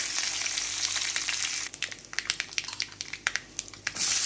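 Mustard seeds, cumin and curry leaves hit hot oil for a tempering while cooking sprouted moong usal, giving a steady broadband sizzle that breaks into sharp crackling pops of spluttering seeds, then swells back to a loud hiss.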